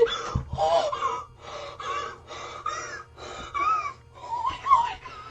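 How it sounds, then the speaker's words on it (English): A streamer breathes heavily after a long Tetris game, a rapid series of loud, close gasping breaths in steady rhythm with no talking. "that boy breathing like he just ran a 20-mile marathon"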